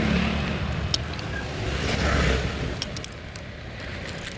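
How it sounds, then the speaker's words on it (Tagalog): A key jingles and rattles in short metallic bursts as it is put back and a gate is pushed, close by, with steady street and engine noise from an outdoor road in Cambodia behind it. "Balik ulit natin yung susi."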